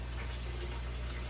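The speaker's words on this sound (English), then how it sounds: "So go ahead and put some vinegar in." Vinegar poured into a container of water, a faint, steady trickling and splashing stream heard close up for a moment, with no voices.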